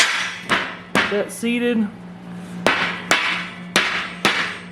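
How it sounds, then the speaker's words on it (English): A hammer strikes a steel piece, seating it into the slots of a large welding table under construction, about six sharp ringing metallic blows at a steady pace, close and loud, with a brief spoken remark between them. "Take a hammer here"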